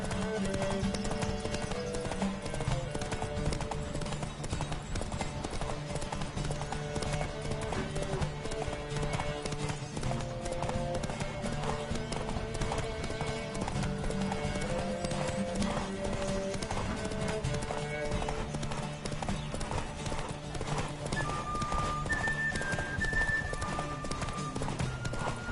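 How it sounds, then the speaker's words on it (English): A horse gallops in The Witcher video game, its hooves clip-clopping rapidly and steadily throughout under a layer of background music. "Don't spare the horse!"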